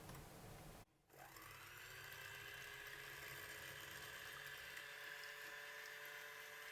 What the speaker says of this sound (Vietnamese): mình sẽ đánh bông cái lòng trắng trứng này lên. Cái máy của mình có 3 số thì mình đánh ở số 2 nha.